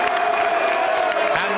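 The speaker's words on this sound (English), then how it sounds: "Crowd are loving it" A boxing crowd at the Dazzo Williams vs Roy Rutherford rematch roars and cheers steadily after a round, while a commentator talks over the noise.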